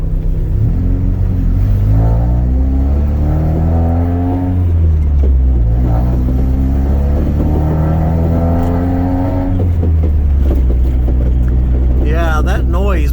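A Saturn S-Series car with a rear-mounted turbo drives along, its engine a loud, continuous drone that climbs and falls in pitch as it accelerates and eases off, with faint higher whine near the end.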